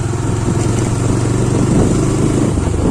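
A motorcycle engine runs steadily and loudly nearby with a low, throbbing rumble on a rural village track. No speech is heard.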